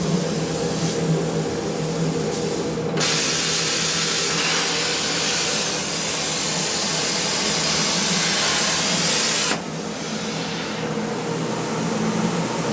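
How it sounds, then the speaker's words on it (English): A power tool cuts through 5mm aluminium plate with extraction running, a loud continuous harsh whine that swells in pitch and intensity partway through before easing back. "Nice clean cuts on the aluminium."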